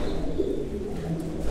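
Mardin tumbler pigeons coo softly nearby, low throaty murmurs repeating over a quiet background with a faint chirp near the end.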